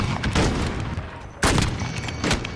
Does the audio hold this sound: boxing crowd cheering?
no